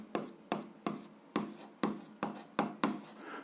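Pen or pencil writing algebra on paper, heard as a run of short, close scratching strokes at a steady, even pace, with no talk over them.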